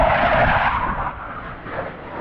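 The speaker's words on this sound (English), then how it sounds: "jet fighters, they always wait for me to get out on the water before they come" Jet fighters roar overhead above a lake, a loud broadband rush that is strongest at first and then eases slightly while staying steady, heard from a boat out on the water.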